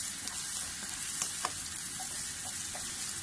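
Vegetables fry in a pan for vegetable noodles, a steady close sizzle with a few light scrapes and clicks of stirring and no voices.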